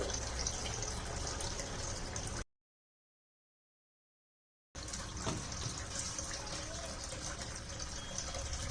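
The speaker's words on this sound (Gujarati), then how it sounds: "થોડું થોડું મિક્સઅપ કરતા જશું અને પાણી એડ કરતું જવાનું છે" Water runs and pours steadily into flour for bati dough, breaks off into a couple of seconds of silence, then pours again.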